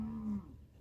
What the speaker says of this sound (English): Cows are frustrated. They want grain